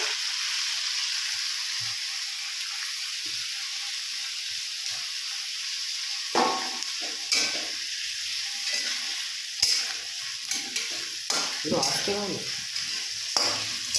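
Onions frying in a pan for a chicken dish, a steady close sizzle at first, then joined by repeated spatula strokes and scrapes that come in uneven bursts over the hiss of the oil.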